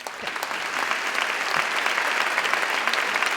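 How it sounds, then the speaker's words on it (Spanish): Steady audience applause fills an awards gala hall, the Simón 2015 ceremony, as a dense wash of many hands clapping that holds evenly throughout, with no voices over it. "Podemos aplaudir"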